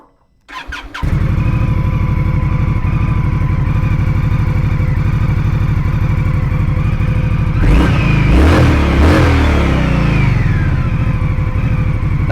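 A 2023 Indian Scout Rogue motorcycle on stock pipes cranks and fires up, then holds a loud, steady, deep idle close by before a few sharp revs of the throttle rise and fall again.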